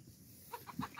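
Farm chickens kept near cattle give a few short, close clucks in quick succession, a brief burst over quiet background.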